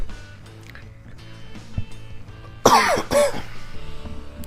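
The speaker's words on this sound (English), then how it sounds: "sorry that I'm coughing into the mic and whatnot" Two loud, close coughs in quick succession, heard right into a microphone over a low background of baseball video game sound.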